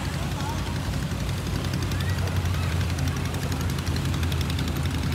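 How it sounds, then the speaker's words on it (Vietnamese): Outboard engines of longtail canoe boats droning loudly at a club parade during an eco-tourism festival in Phong Dien, Can Tho, a steady low roar close by with people talking over it. "do tiếng động cơ cho nên không nghe"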